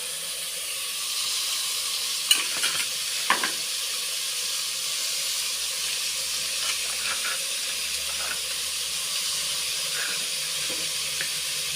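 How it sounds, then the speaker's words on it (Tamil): Cut cabbage is stirred into softened tomatoes in a hot pan, producing a steady broad hiss of sizzling steam throughout, with a couple of soft utensil knocks early on and no voices. "இப்போ நம்ம இதுலேயே இந்த கட் பண்ணி வச்ச முட்டைக்கோசையும் போட்டு கொஞ்சம் நல்லா வதக்கிக்கலாம்"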